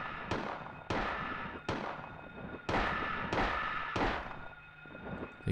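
Pistol shots fire in the PS1 game Silent Hill, about six sharp bangs at uneven intervals with short decaying tails, loud and close, and no voice over them.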